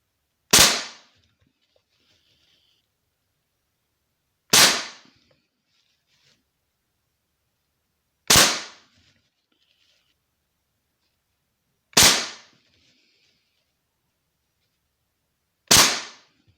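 An air rifle fitted with a Langley silencer fires pellets indoors at a target about 10 m away. Five evenly spaced, sharp, muffled cracks sound close by, each fading quickly into quiet.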